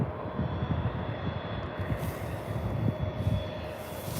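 A Jet2 airliner departs Birmingham airport, its engines a steady, broad distant roar that holds at an even level throughout.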